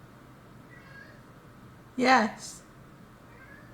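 A pet cat meows once, loud and close, holding a jingle-ball toy in its mouth; the meow is brief and drawn out, with a person talking before it.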